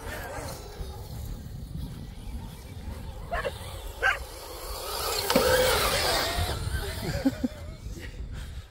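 Neighborhood dogs bark and yip intermittently a little distance away while an RC car whirs and people talk over the scene.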